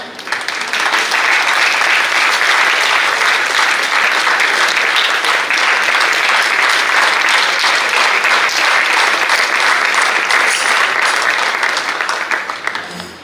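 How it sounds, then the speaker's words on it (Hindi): Sustained, loud applause from a theatre audience greeting senior actor Uday Shahane as he comes on stage; dense, even clapping fills the whole stretch without pause. "एक बात ताली हो बजानी पड़ेगी"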